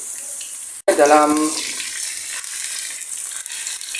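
Plain water is poured into a hot frying pan of golden-browned cuttlefish and brinjal, setting off a sudden loud sizzle that settles into a steady hiss, with a voice speaking briefly.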